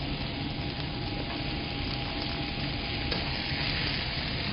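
Corned beef hash with thyme frying in a little extra oil in a pan, a steady, even sizzle and crackle that runs on alone without pause.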